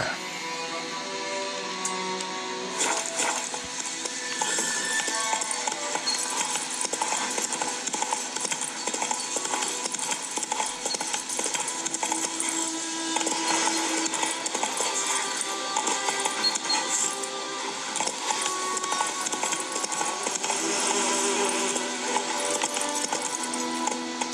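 Roach, the horse in Witcher 3, gallops along with a continuous, rapid clip-clop of hooves. A bed of game music and ambient texture runs under it throughout, and there is no speech.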